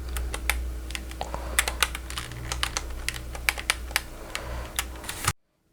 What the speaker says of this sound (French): j'ai tapé ma manette sur mon clavier